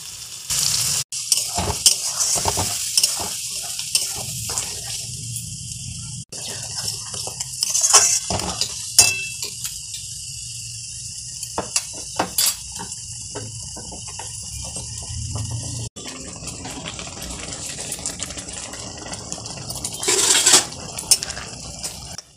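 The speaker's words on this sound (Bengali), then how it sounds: "পেস্ট করে রাখা ধনেপাতা এরপর ওই তেলের মধ্যে দেয়া হচ্ছে, আর এই তেলের মধ্যে দেওয়ার পরে কিন্তু বেশ ভালো করে নাড়তে থাকতে হবে" Coriander leaf paste fries in hot oil for a chutney while being stirred steadily, a soft continuous sizzle broken by scattered clinks and scrapes of a utensil against the pan.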